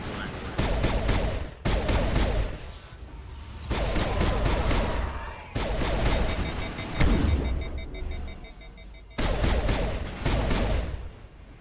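Gunfire in the game Mass Effect, a shotgun: several loud, heavy blasts in quick bursts with short gaps between them, each followed by rumbling game sounds.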